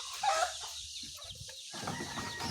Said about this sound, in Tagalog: yung ating mga manok nagwawala na.